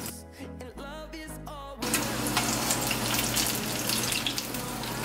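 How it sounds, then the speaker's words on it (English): Shrimp egg rolls deep-fry in oil with a dense, steady crackling sizzle that takes over after a short tonal, melodic opening. "I'm just going to add my egg rolls in. And when these get nice and golden brown"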